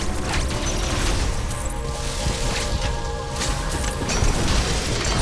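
A power bomb blast and shinespark in Metroid Dread, a loud dense rumbling roar with mechanical clanking and crashing layered over game music, sustained for several seconds.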